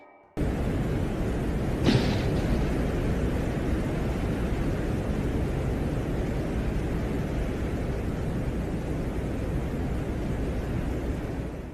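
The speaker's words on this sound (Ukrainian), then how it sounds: "маємо справжній запис венеріанських вітрів, зроблений радянським зондом" A recording of Venusian winds made by a Soviet probe: a dense, steady roar of wind-like noise hisses without a break, with one brief crackling burst early on; no voices.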